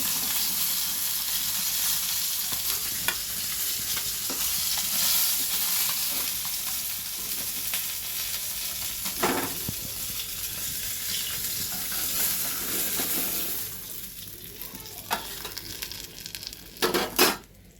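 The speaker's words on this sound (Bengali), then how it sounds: "দেখো মাছগুলো আমার ভাজা হয়ে গেছে" Fish fry in hot oil with a continuous broad sizzle and hiss, moderately close, with occasional utensil clinks. Sharper scraping and metallic knocks of a spatula against the pan come near the end.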